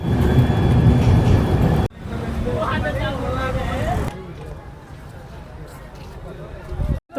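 A passenger train running out of Malda station, a loud steady rumble and rattle of wheels that drops in level partway through, with a voice talking over the rolling noise.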